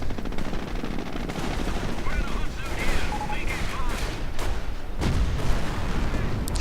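Gunfire and artillery from a 25-pounder barrage in a WWII strategy video game, a steady dense mix of shots and booms that run throughout, with a heavier burst near the end and a voice faintly under the din.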